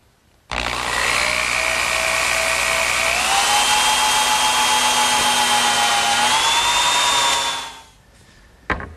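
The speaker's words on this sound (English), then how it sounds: "the first thing that I'm going to do is drill a hole for the pivot point" A power drill whines loudly and steadily for several seconds, its pitch rising slightly as it bores a hole into wood, then winds down and stops.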